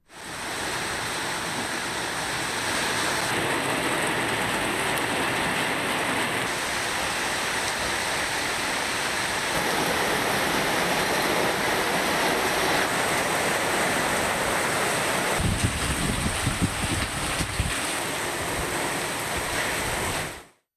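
Heavy rain pours steadily during a storm in Tamil Nadu, a dense, continuous hiss that stays loud throughout, with a brief rougher low rumble near the end and no voices.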